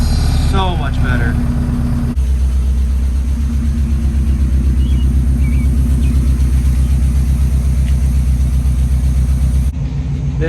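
An NA Mazda Miata with UEL headers and an ISR Performance Circuit Spec exhaust idles close by. The low, steady burble holds throughout, with a brief blip near the start.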